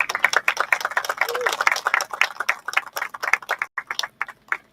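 Audience applause for Secretary Ed Gaunch at a ribbon-cutting ceremony, a brisk run of close, dense hand claps that thins into scattered individual claps before stopping.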